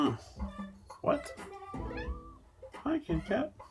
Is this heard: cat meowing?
yes